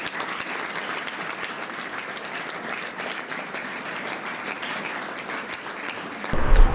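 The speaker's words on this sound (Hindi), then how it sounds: "जोरदार तालियों से" Loud, dense applause fills a school foundation event as a guest is honoured by the president, a steady wash of clapping from a large audience that swells louder at the very end.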